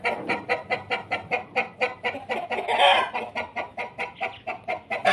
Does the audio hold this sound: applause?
no